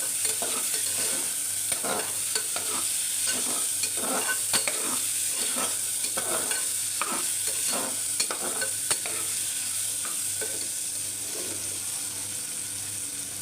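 Lentils with tomato and chili being stirred in hot oil, a steady close sizzle with a run of scraping spoon strokes that thin out toward the end.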